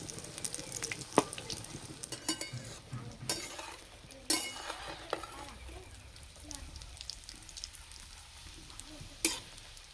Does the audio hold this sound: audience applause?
no